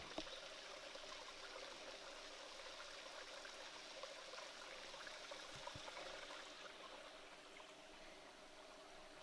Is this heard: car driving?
no